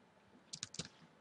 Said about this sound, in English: Go ahead and type in Skype.